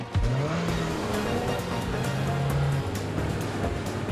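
A Nissan Altima with a fuel-efficient VC turbo engine drives past. There is a loud, continuous engine roar with a rising then falling whine and road rush throughout, with no talk.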